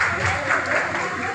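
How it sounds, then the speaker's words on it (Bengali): Applause from an audience at a political ward camp in Sonarpur, steady dense clapping filling a short stretch, moderately loud with some background voices mixed in. "হাততালির আওয়াজটা একটু কমে গেছে"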